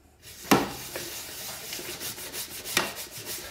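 Baked pieces shaken in a container of coating while baking truffles, producing a soft, rhythmic rubbing and rattling with a couple of sharper knocks, fairly quiet and close.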